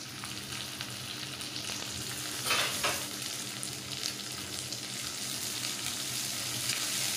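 Curry leaves with grated ginger fry in a pan for vada curry, giving a soft, steady sizzle with light stirring scrapes and a brief louder crackle partway through.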